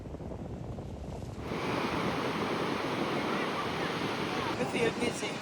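Ocean surf at a beach rushes in as a broad, steady wash after a quieter opening, with wind buffeting the microphone and a few louder gusts near the end.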